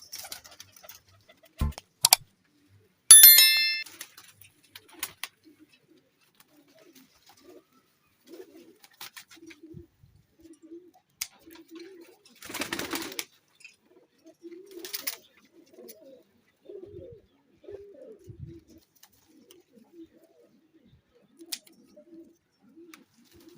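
Pigeons coo softly and intermittently at close range, their low murmuring calls scattered across a quiet scene with occasional sharp clicks and brief rustling bursts.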